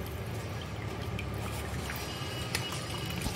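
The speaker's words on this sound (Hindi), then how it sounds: "इसमें हम अच्छे से पानी डालते रहेंगे जिससे हमारा" Water pouring steadily off freshly made chhena (paneer) for rasgulla, a continuous close trickling and splashing wash with no talk over it.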